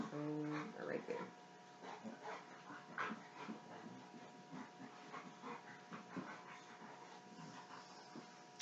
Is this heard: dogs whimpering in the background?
yes